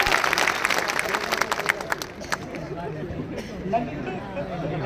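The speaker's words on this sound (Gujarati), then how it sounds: "એમને તાળીઓ સાથે આપણે એમને અભિનંદન આપીએ" A crowd at a Thakor community gathering claps in a brief burst of applause that thins out and fades, with a speaker's voice and murmuring audience continuing over it.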